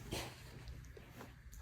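A dog on a bed gives faint, soft whimpers and a short yip, brief high whines in a quiet room with a low background hum.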